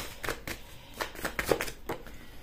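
Tarot cards shuffled by hand, about eight soft riffling bursts in a quick uneven rhythm, close and fairly quiet, with no talking.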